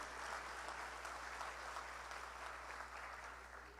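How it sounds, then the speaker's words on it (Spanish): Crowd applause at a political party gathering, a broad continuous patter of many hands heard from a moderate distance over a steady low electrical hum, with no talking on top. "Ese aplauso distinguido para ellos."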